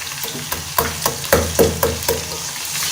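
Onions fry in oil in a pan while being stirred, a close, steady sizzle broken by repeated clinks and scrapes of a utensil against the pan, with no talk.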